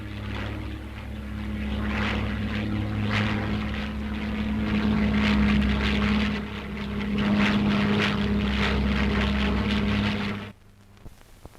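A Supermarine Spitfire 7 in flight, a loud steady propeller-engine drone with slight swells as it passes, cutting off abruptly near the end.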